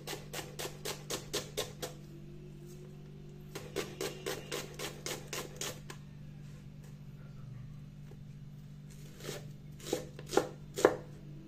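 A knife chops an onion on a cutting board: rapid bursts of crisp, evenly spaced chops in several runs, close and clear, with a steady low hum underneath.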